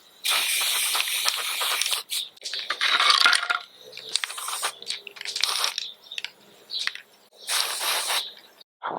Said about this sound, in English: Let's get the primer on it.